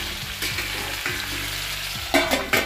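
Potatoes and bottle gourd with green chili, salt and turmeric sauté in a hot pan, giving a close, steady sizzle. A few scraping stirs rise above it near the end.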